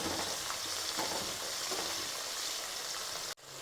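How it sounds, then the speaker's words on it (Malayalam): Five green chilies fry in hot oil for a lemon and dates pickle, giving a loud, continuous close-up sizzle and crackle with stirring, broken by a brief dropout just before the end. "ഞാനൊരു അഞ്ച് പച്ചമുളകും കൂടെ ചേർത്ത് കൊടുക്കും നല്ലവണ്ണം പൊരിച്ചെടുക്കണം"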